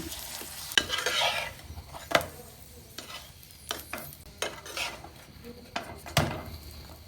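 A chicken keema paratha fries in oil on a tawa, with a soft background sizzle under repeated scrapes and metallic knocks of a spatula against the pan, irregular and close.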